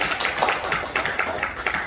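Applause from a seated crowd at a reunification-movement leaders' workshop closing ceremony in Korea, a steady patter of many hands clapping at close range, brief and fairly even throughout.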